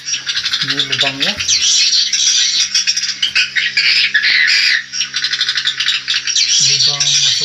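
Dense, loud chattering squawks of many swiftlets calling at the entrance hole of a swiftlet house, continuous and close, with brief bursts of a person's voice near the start and end.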